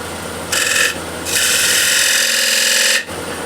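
A spindle gouge rolls a bead on a walnut or cherry plate spinning on a wood lathe, giving two bursts of dry, scraping cut noise over the steady motor hum, the second longer and sustained.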